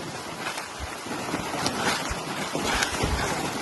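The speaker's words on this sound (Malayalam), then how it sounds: "ഭയങ്കര കാറ്റ് ഇവിടെ, മൊത്തത്തില് ജാതി കാറ്റാ." Strong outdoor wind roars and buffets a nearby microphone in a broad, continuous rush with gusty swells and thumps.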